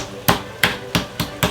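A mallet pounds small chicken fillets flat under a cover on a board, five hard, evenly spaced thuds, close and loud, with no voices over them.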